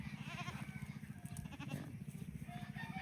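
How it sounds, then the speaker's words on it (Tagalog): Goats grazing in a Philippine pasture, a herd with a newborn kid, give repeated wavering bleats over a steady low rumble of wind or handling noise, fairly close and with no speech. "yan yung mga kambing natin. May bagong panganak."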